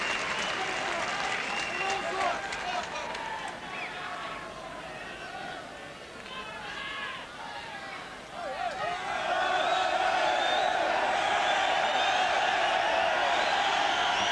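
Football crowd noise during a Derry City versus Benfica match, a broad continuous roar with scattered shouts and voices that swells louder toward the end, with match commentary talking over it.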